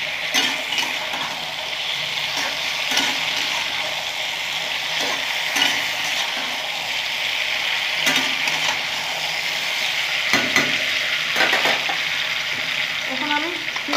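Spinach and other vegetables frying in a pan, a steady sizzle running throughout with occasional stirring clinks and scrapes, close and fairly loud.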